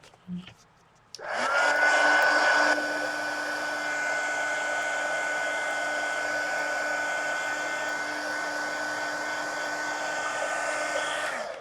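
A hair dryer switches on after a faint voice and runs loud and steady for about ten seconds, drying a mixed media napkin painting page of a mermaid coloring design, with a constant whine and airy roar.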